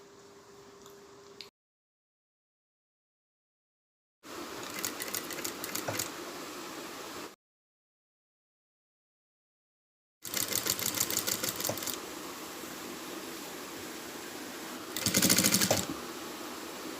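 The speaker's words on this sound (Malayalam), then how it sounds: "ശേഷം സ്റ്റിച്ച് ചെയ്ത് കൊടുക്കുക." A sewing machine stitches through layers of an old cloth doormat in separate runs, its rapid mechanical whir stopping and starting between stretches of silence, with a louder burst near the end.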